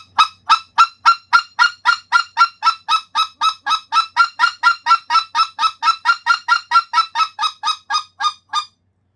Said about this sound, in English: That's a single cluck with no change in the air.